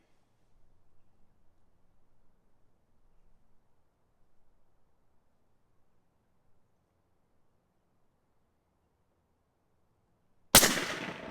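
A single loud, sharp shot from an Umarex Hammer .50 caliber air rifle fired at a golf ball cracks out near the end after a long stretch of near silence and faint rustling.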